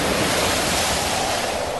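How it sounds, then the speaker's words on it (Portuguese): Strong sea waves crash over a boat in a loud, continuous roar of surf and spray, with no break or voices. "as ondas arrebentavam com tanta força em cima do barco que ele já estava ficando cheio de água"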